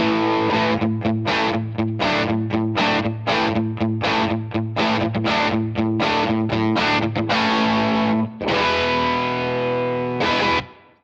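An electric guitar plays basic chords through heavy distortion, struck in a choppy rhythm of short stabs and then a couple of longer ringing strums, loud and close with no talking.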